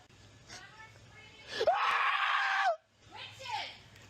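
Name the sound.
person screaming for help in a store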